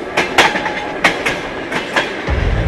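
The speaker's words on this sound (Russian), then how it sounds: "и все тот же стук колес" Train wheels clack over rail joints in loud, close, rhythmic bursts, a steady clickety-clack carried over a rumbling carriage with no one speaking.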